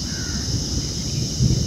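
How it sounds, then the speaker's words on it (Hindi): Large crow cawing at a zoo near grazing antelopes, a short harsh call over steady background noise, with a louder burst near the end. "पता नहीं वो बड़ा सा कौवा वहाँ पे क्या कर रहा है, इतना काई काई क्यों कर रहा है"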